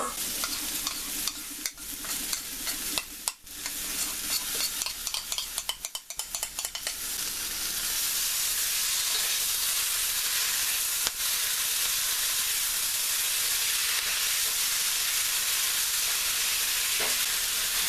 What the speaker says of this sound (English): I think it's time that we can add our honey mustard sauce.